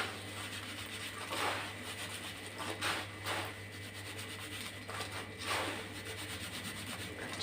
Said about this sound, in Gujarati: આ રીતના બંને હાથથી મમરાને ઘસશો ને એટલે મમરા એકદમ સરસ એવા તૈયાર થશે